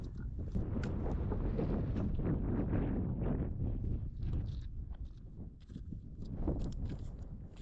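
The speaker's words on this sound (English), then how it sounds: "Yes, it is very, very windy" Strong desert wind buffets the microphone at Queen Valley, a constant low roaring rumble with gusty fluctuations filling the whole stretch, loud and close, with no talk.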